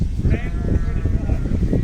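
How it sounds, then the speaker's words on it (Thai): A flock of sheep bleats repeatedly on a farm where they are being weighed, overlapping calls rising over a steady low rumble of nearby animal and crowd noise, with faint talk in the background. "ฝูงแกะ"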